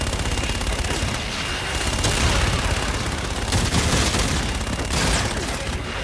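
Sustained heavy gunfire from Call of Duty Infinite Warfare, a dense continuous fusillade of automatic weapons with booming impacts layered in, loud and unbroken, with no voices over it.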